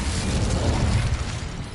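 A fire spell cast in the video game Hogwarts Legacy bursts out as a loud, dense whooshing roar that holds steady for under two seconds before easing slightly, with no voices.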